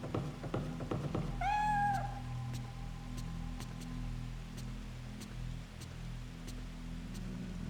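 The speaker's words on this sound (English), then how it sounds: "Is that why the cat's meowing at her room?" A cat in the survival horror game Fatal Frame 3 lets out a clear, drawn-out meow after a few soft thumps, followed by a quiet low hum and faint repeated ticking.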